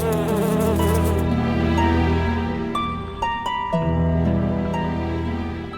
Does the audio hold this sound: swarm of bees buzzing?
yes